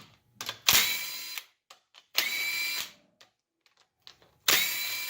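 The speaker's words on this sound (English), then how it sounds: "It's okay to take all these off with an impact" Three bursts from an impact wrench backing out short 10mm bolts on a 4L60E transmission case, each a loud rattling whir lasting under a second, with quiet gaps and small clanks between them.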